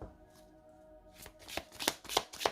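Oracle cards being shuffled for a love reading: a quiet start, then a series of crisp, riffling slaps that grow louder and more regular toward the end, close up and with no talking.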